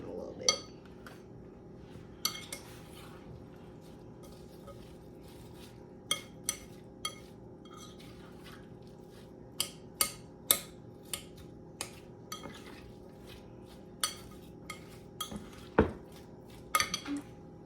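Crab salad is mixed in a bowl with utensils, giving a series of sharp, close clinks and scrapes, sparse at first and then more frequent, over a quiet background with occasional talk.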